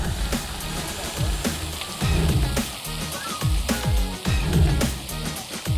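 Steady rain patters and splashes on a surface, with irregular sharp drips and thumps scattered through a constant wet hiss.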